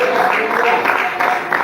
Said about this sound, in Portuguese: Os irmãos podem sentar e aplaudir ao Rei Jesus.